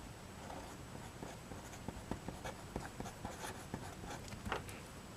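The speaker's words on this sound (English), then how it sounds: "I'll just go ahead and write it out." Pen or marker scratching out a calculus integration-by-parts equation on a board, a series of short, light taps and strokes in an irregular rhythm over a quiet, hissy room.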